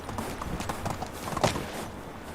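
Horse hooves galloping in the medieval village-building game Medieval Dynasty, a quick rhythmic clip-clop of many soft hoofbeats at moderate volume, running steadily for the whole stretch without talk.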